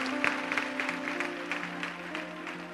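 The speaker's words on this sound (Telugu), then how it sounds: "మనం చప్పట్లు కొట్టాలంట." Church congregation claps hands during a service, a brief run of irregular, moderately loud claps with a held tone sounding beneath.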